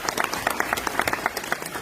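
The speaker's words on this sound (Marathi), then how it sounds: "त्या दोघांच्यासाठी पण जोरदार टाळ्या वाजवाव्या." Applause from a crowd at a municipal council gathering, a short burst of brisk, irregular hand claps at moderate loudness.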